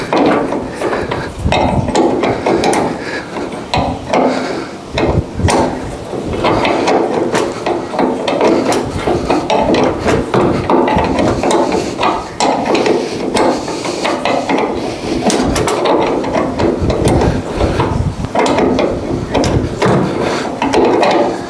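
A wrench works overly long bolts loose on a 1970 Chevrolet El Camino, making loud, dense, continuous metallic clicking and clattering, close and unbroken.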